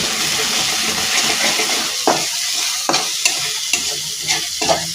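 Mushroom curry frying in a pan as garam masala, chili powder, salt and turmeric are stirred in: a steady close sizzle broken by four or five sharp spoon scrapes against the pan.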